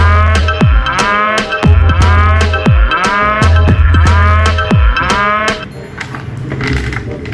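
A cow moos loudly and repeatedly at close range, with about a dozen drawn-out calls in steady succession that ease off toward the end and no talking.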